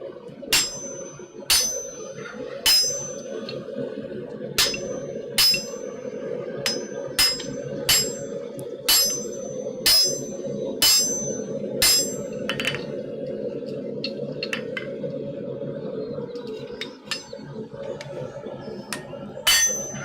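Sharp metallic hammer blows ring out on an anvil as a blacksmith forges his first tenon, strikes coming in an irregular rhythm roughly every second, loud and close over a steady low hum of the smithy.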